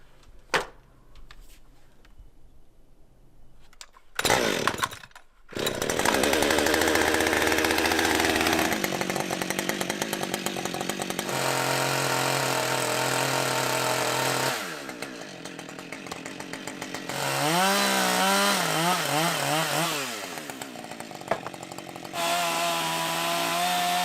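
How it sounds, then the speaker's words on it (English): A chainsaw starts with a few pulls, then runs loud and close, revving and bogging as it cuts through wood while building an outdoor shower in Alaska, with pitch shifts under load and brief drops between cuts. "Then we can get the chainsaw out."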